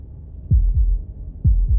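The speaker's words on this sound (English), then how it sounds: "That was the sound of a heartbeat" Two heartbeats in Slay the Princess, each a deep, close lub-dub double thump, spaced about a second apart over a faint low hum.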